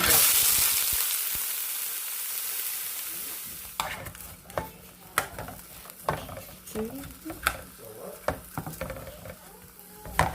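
Frozen vegetable mix frying in a little oil in a small pot, quiet hiss at first, then sharp stirring clanks and pops of sizzling, with a voice speaking briefly.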